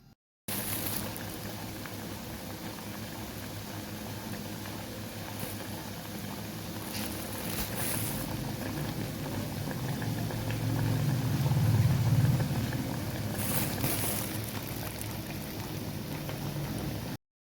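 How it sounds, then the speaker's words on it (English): Frozen chicken burger patties deep frying in hot oil over a medium-high flame, a steady bubbling sizzle that runs throughout and swells slightly in the middle, with no talking. "Add patties and fry for 2 to 3 minutes."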